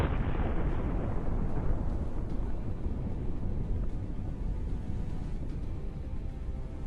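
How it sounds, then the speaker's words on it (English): A Russian tank blows up in a heavy explosion: a sustained, dense roar and rumble that stays loud and steady for several seconds, with no voices. "Incredible explosion creates a new cloud against the blue sky."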